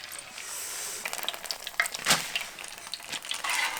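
Lettuce pancake batter sizzles and crackles in a hot pan, a close, fairly quiet frying hiss with scattered sharp pops and a brief clink of a utensil.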